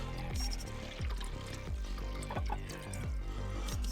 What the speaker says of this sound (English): you hit the second one turns on the pump. So we can get a nice glass of water